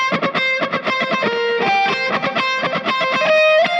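A funky, choppy electric guitar lick in 4/4 with a slightly driven tone, short staccato notes in a steady groove, close and upfront.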